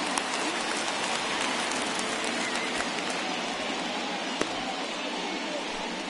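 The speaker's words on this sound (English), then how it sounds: "we've mentioned the conditions aren't ideal with the rain coming down" Steady rain falls at a baseball stadium during a Phillies at Mets game, a dense, constant hiss of drops with occasional sharper splashes, continuous and fairly loud with no voices.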